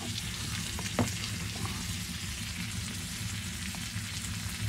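Butter cooking in a pan over an open campfire in winter gives a steady, moderately quiet sizzle and crackle, with a brief knock or clatter near the start.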